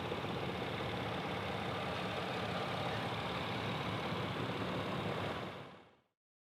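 A 2017 Chevrolet Colorado ZR2 with a 3.6-liter direct-injection V6 idles steadily, a smooth low hum with a broad hiss, heard up close with the hood open until it cuts off near the end.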